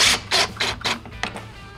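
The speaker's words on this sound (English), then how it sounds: "start resecuring the panel with the 7 1/4 inch screws" Screws are driven into the back panel of a Kenmore refrigerator with a power driver in a series of about five short, loud bursts of whirring, separated by brief pauses, with no talk.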